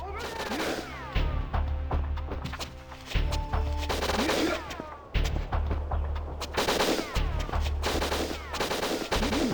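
Guard gunfire in the N64 game Winback, repeated bursts of shots in several distinct volleys across the stretch, loud and close, mixed with game sound effects.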